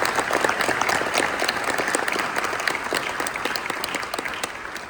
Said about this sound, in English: let's get a big round of applause for all of the people that come here